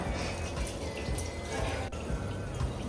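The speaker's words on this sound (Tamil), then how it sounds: "இது வந்து மத்தியானம் வச்ச சாதம். ஸோ இதில் நான் வந்து தண்ணி ஊற்றி வைக்கிறேன்." Water pours into a pot of leftover cooked rice, a continuous trickling, splashing stream heard close up with small drips and a faint background hiss.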